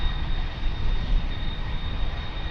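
Airplane engine roar as an aircraft takes off from runway 02 at Lisbon Airport on a windy day, a steady, loud broadband rumble with a faint high whine held throughout.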